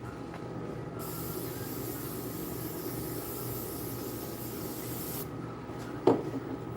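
A spray cleaner lets out a steady, close hiss that runs for several seconds before cutting off, followed by a small knock or click.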